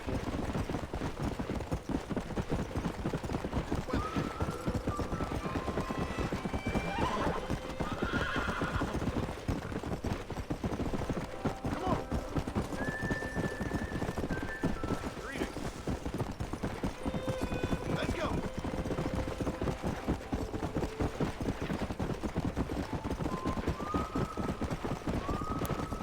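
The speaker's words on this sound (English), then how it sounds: "Andando a cavalo." Rhythmic hoofbeats of a galloping horse ridden in the Red Dead Redemption video game, with several whinnies and neighs over the steady clip-clop, no talk.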